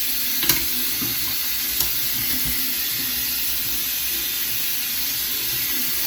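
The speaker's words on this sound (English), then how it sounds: "So like I said, I just rinse them first." Tap water runs steadily into a sink as makeup brushes are rinsed, a constant close hiss of flowing water with a few faint knocks.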